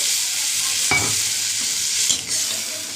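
A pan sizzles loudly and evenly as spice paste fries in oil, broken by two clear scraping stirs of a spoon through the frying paste.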